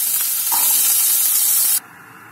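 Diced potatoes dropped into a hot wok burst into a loud, close, steady sizzle that cuts off abruptly, with no talk.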